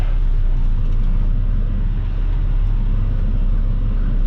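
A semi truck's engine rumbles steadily and loudly up close as it backs toward the rail at a waste transfer station.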